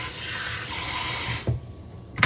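Water runs steadily into a container where salted mackerel is soaking, a continuous close hiss that stops abruptly partway through, leaving a quieter tail.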